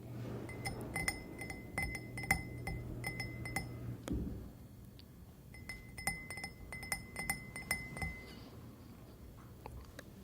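Champagne glasses clink and chime again and again at close range, with sharp ringing taps in clusters, a brief pause, then more clinks over a low hiss.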